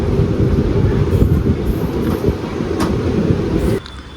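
A Kollam–Nagercoil passenger train rumbles through Thiruvananthapuram North (Kochuveli) station, heard from inside a sleeper coach as a loud, steady low roar of wheels and carriage that drops off abruptly near the end.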